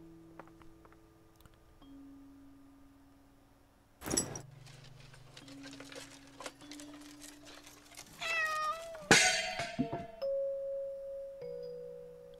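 A cat meows inside the horror video game Layers of Fear Inheritance, several drawn-out cries rising and falling among chimes, a sharp clatter and low droning tones of the game's soundtrack.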